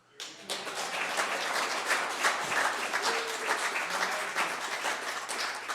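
Audience applause following a woodturning demonstration of a bowl made from a board, a steady wash of clapping from a crowd that starts abruptly and holds at an even level for several seconds.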